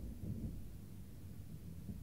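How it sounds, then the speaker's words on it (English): Thunderstorm outside in the video game The Outer Worlds, heard as a faint, low, continuous rumble of distant thunder with soft rain-like noise, muffled as if from indoors. "What's going on out there? Just a storm."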